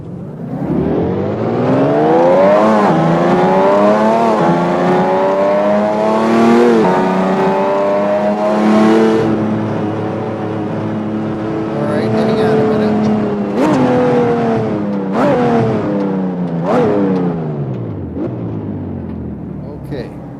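Race car engine in a racing sim revving through gear changes, with rising and falling harmonic sweeps, loud and continuous with sharp shifts, while a person talks over it.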